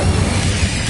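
A fire spell cast in Hogwarts Legacy gives a dense, steady roaring whoosh of flame that fills the whole second at even loudness, with no voices.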